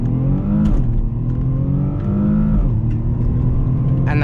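BMW M235i Gran Coupe launching under launch control, heard from inside the cabin: a loud engine roar climbing in pitch through the gears, with brief dips at each shift.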